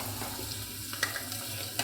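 Steady, soft sizzling of garlic and green chillies frying in hot oil, with a couple of faint clicks as they are stirred.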